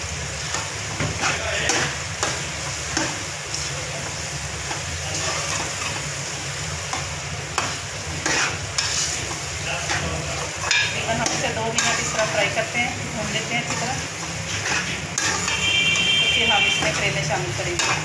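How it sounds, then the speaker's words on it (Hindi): Masala and meat being fried and stirred in a pot for karela gosht (bitter gourd with meat), steady sizzling with repeated scraping of a spoon against the pot, continuous and close throughout. "ये देखें मसाला गोश्त भून गया अच्छी तरह"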